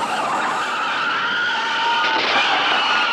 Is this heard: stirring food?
no